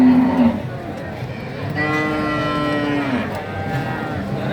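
Cattle at a cow market in Tuban bellow in long, loud moos, one near call followed by a sustained lowing, with faint background chatter of the market.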